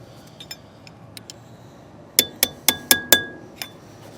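A metal pry tool is tapped between the hub face and the flange of a trailer hub's drive-in grease cap. Five sharp, ringing metallic strikes land in quick succession, with lighter clinks before and after.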